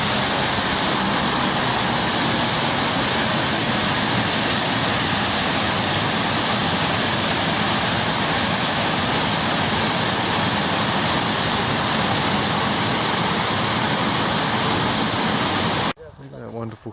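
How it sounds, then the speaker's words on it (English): A waterfall at Ossian's Hall in the woods near Edinburgh roars steadily and loudly as a dense, continuous broadband rush that cuts off abruptly near the end. "which gives us views of the waterfall."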